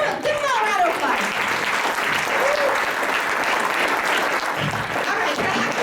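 Sustained audience applause fills a room at a membership meeting, a steady dense clapping that carries on loudly for several seconds with a few voices calling out over it.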